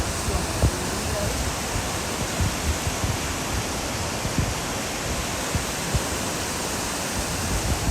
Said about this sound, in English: Tell the people at home what you think of the waterfall.